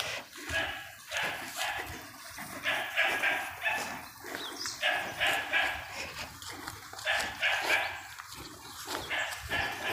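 Dog barking repeatedly close to a house in a forested area where elephants, leopards and bears roam, rhythmic bursts continuing throughout amid background noise.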